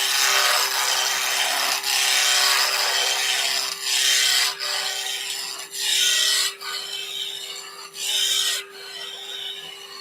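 A bowl gouge rasps against a hardwood egg spinning on a wood lathe during roughing, a steady scraping hiss broken by short pauses as the tool lifts off and bites again, close and with no talking.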